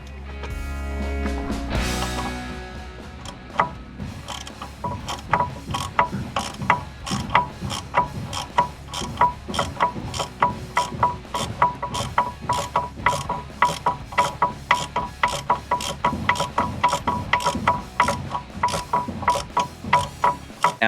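A ratchet tightens the hub bolts on a Jeep JK with a long, steady run of evenly spaced clicks, close and fairly loud, after a brief opening clatter.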